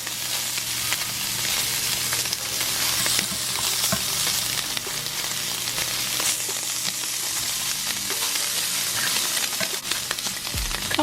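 Seafood pieces browning in a frying pan for a seafood boil, a steady loud sizzle and crackle of hot oil close up, with occasional clinks of stirring and no speech.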